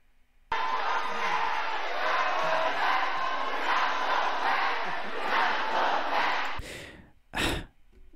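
Large crowd chanting at a Kamala Harris campaign event, a loud sustained roar of many voices lasting several seconds before cutting off, followed by a brief burst of noise and a short swell near the end.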